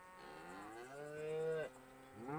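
Cows moo in a long, drawn-out call with a second shorter moo following, rendered in the Western game Call of Juarez: Gunslinger; fairly quiet and clear with no other sounds.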